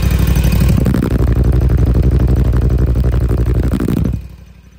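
A Toro mower, model 72507, with a big Kawasaki engine runs close by, a loud, steady, throaty clattering idle that holds for about four seconds and then cuts off abruptly.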